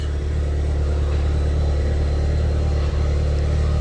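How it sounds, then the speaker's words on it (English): A VW/Audi car with a DQ200 gearbox, just fitted with a replacement mechatronics unit, runs with a constant low engine hum heard close and unbroken, with no voices. "Now start the vehicle."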